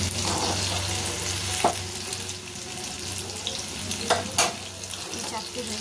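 Bora fritters frying in oil: a steady, close sizzle runs throughout, broken by a few sharp clinks and stirring sounds, with no voices.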